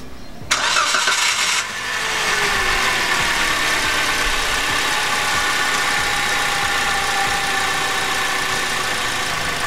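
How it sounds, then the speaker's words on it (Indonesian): A 2018 Toyota Avanza G 1.3 engine cranks and catches, then settles into a smooth, steady idle humming close by with no other sounds. "suaranya masih mulus ya, nggak ada ngetik, nggak ada suara-suara aneh. Mesinnya masih responsif"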